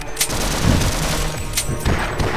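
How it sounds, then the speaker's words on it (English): Gunfire in the multiplayer shooter Sven Co-op during a deathmatch, a burst of sharp reports close together over a busy game soundscape, with faint voice chatter underneath. "Gunshot."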